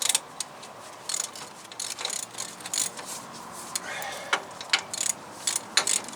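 A ratchet works on stubborn wheel bearing bolts on a 2012 Ram 1500 Big Horn 4WD. Scattered clicking bursts come in short runs and are fairly faint, with near silence between them.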